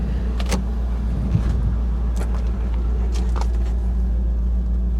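A car engine idles on varnished gasoline at a Copart salvage yard, giving a steady low rumble close up with a few faint clicks and clunks over the drone.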